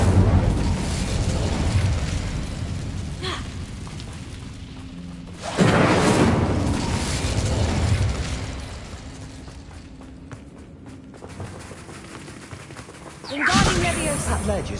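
Incendio fire spell cast in the Hogwarts Legacy video game, heard as loud whooshing bursts of flame around 5.5 s and again near 13.5 s over a busy game-combat background with talk.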